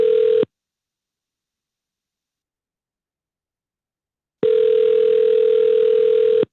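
Telephone dial tone, a steady electronic hum that cuts off after half a second, then silence for about four seconds before the same tone returns and holds.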